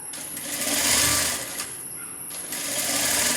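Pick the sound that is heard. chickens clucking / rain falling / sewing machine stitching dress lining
sewing machine stitching dress lining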